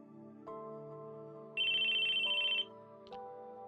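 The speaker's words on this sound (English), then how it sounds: "Suddenly, his phone began to ring." A mobile phone ringtone chirps out as a bright electronic trill for about a second, rising over a steady droning musical backdrop, then gives a short second burst.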